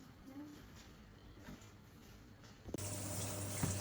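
Running tap water rinsing dyed 32-inch locs, a faint trickle at first that turns into a loud, steady gush from the faucet partway through.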